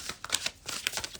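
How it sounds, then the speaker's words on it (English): Tarot cards shuffled in a brief, close run of crisp snapping and riffling clicks, several quick card strikes in an uneven rhythm, alone and fairly quiet. "One more shuffle."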